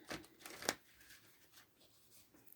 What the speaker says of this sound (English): Let me get the card shuffled.